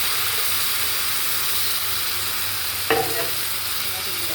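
Tomatoes frying in a pan with cumin, a steady broadband sizzle and hiss throughout, with a brief clatter of stirring near the end; no talk over it.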